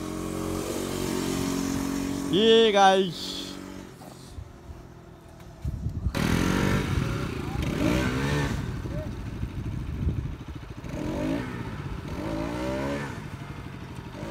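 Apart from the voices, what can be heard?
motorcycles accelerating on a Mumbai ride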